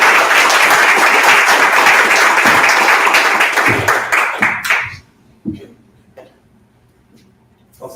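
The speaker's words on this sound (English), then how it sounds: "a lot of round of applause for" An audience at a talk applauds loudly and densely for about five seconds, then the clapping thins out and dies away into a quiet room with a few scattered sounds.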